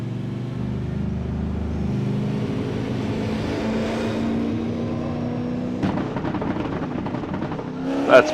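A V8 Supercar engine in iRacing at Mount Panorama bounces off the rev limiter, holding a steady buzzing drone at constant pitch before a sharper burst of revving near the end, with no voices.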